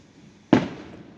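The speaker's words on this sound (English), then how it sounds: "look at the fireworks" A single Fourth of July firework bursts with a sharp, loud bang that fades into a short rumbling tail.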